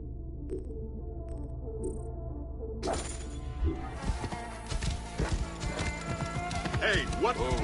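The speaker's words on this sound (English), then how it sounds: "This must be Mered's horse." Horse hooves clop and a horse whinnies in a video game, after a stretch of near silence with faint tones; steady clip-clop footfalls and a high neigh ring out over game music and effects.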